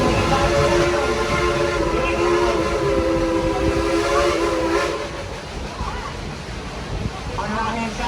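A steam whistle blows steadily for several seconds over the hiss and rumble of a moving steam train at Dollywood, then fades into rolling noise.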